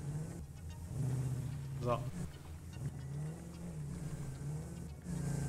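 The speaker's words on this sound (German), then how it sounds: "Das wird unsere neue Karre jetzt, mit der wir spazieren fahren nachher." A car drives in the factory-building game Satisfactory; a steady engine hum with shifting revs runs throughout, while someone talks briefly over it.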